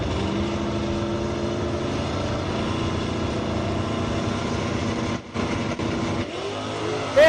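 Drag racing cars at Kansas Dragway roar off the line together, a loud sustained engine blare under crowd ambience that briefly dips and then surges again.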